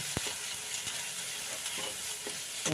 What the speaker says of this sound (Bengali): এর সাথে একটুখানি আটাটাকে কষিয়ে নেব